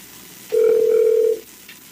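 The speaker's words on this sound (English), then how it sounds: "It's ringing?" A single steady electronic phone ringing tone during a call, lasting under a second, clear and close over a low background hum.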